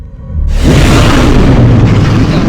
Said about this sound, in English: doing this little drone strike here